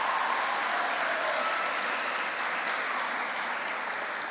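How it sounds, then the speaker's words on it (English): A school debating championship audience gives the presenters a round of applause, a steady even wash of clapping heard from a distance at a moderate level, with no voices over it. "please give our presenters a round of applause"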